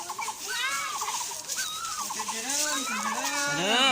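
Chickens cluck and call nearby in a rural yard, a series of short rising and falling notes, with people talking faintly alongside.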